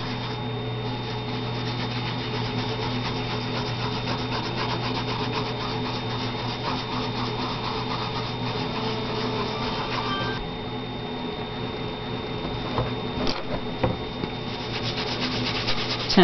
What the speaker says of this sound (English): So I'm really stretching this paint, making it go really far so that it is transparent.